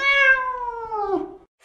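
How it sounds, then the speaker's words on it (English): A single clear cat meow with a falling pitch, heard alone and close in a children's English animal-names lesson, fading out after about a second and a half. "Cat."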